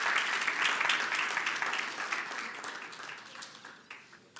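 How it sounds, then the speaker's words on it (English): An audience applauds a debate team stepping up to represent the proposition at a school debate, with dense, steady clapping that swells at first and then gradually thins and fades over a few seconds. "Let's give them a round of applause as they step up."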